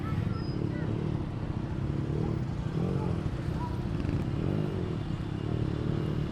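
Many motorcycles pass outside a motorcycle shop in a continuous, close engine drone, with rising and falling swells as bikes go by and a faint murmur of people in the background.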